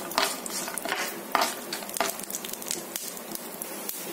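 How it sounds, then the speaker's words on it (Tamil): Chana dal and peanuts, with mustard seeds and urad dal, fry in oil in a pan for aval upma, giving a steady close crackle and sizzle broken by several sharp spoon scrapes and taps. "கடலைப்பருப்பு, கொஞ்சமாக நிலக்கடலை, இது எல்லாத்தையுமே நல்லா ஃப்ரை பண்ணி எடுத்துக்கோங்க."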